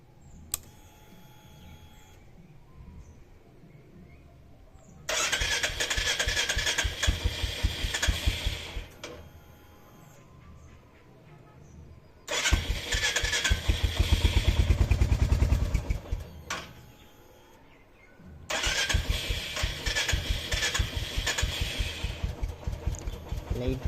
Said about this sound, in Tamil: நான் இன்றைக்கி வண்டி ஸ்டார்ட் பண்ணி காட்டுறேன், எப்படி அது இதாகுதுன்னு பாருங்கள்.